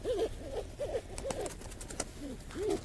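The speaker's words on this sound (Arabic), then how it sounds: "حمامة وافية" Soft, low pigeon coos repeat at a slow, uneven pace, close by, with faint background noise and no talking.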